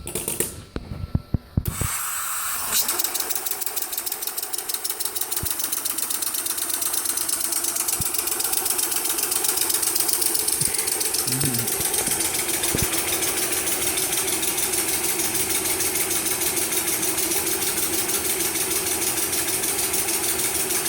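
A small benchtop hybrid engine, running on its electric motor, runs steadily with a fast mechanical chatter and rattle, loud and close, after a few sharp clicks at the start.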